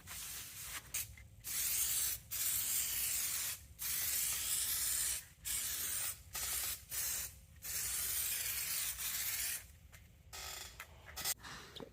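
Aerosol can spraying black rust-protective coating inside a car firewall, close and loud, in repeated long hissing bursts separated by short pauses.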